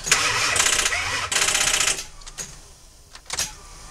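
The engine of a 1998 Ford Econoline E350 Super van cranks in two long grinding bursts without catching, followed by a few quick clicks and sputters.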